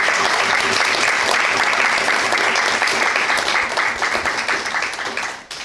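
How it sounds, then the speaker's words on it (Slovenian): An audience claps warmly in sustained applause that fades out near the end. "prosim en aplavz"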